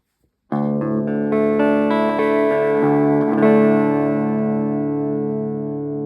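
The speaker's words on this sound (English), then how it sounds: "So distortion right out of the gate." A distorted electric guitar chord rings out through a Lekato TOP-GT GA-02 practice amp, followed by a few more gritty strummed notes that sustain and slowly fade.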